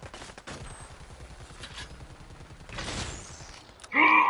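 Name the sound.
gunfire in video game Predator: Hunting Grounds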